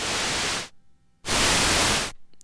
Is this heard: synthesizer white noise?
yes